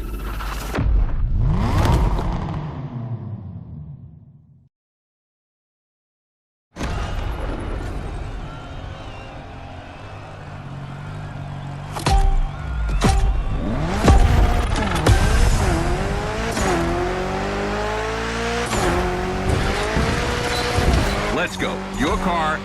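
An Evo 9 in The Crew Motorfest gymkhana revs hard and squeals its tires, loud and continuous after a brief silent gap, with bursts of engine roar and sliding screeches and a voice talking over it.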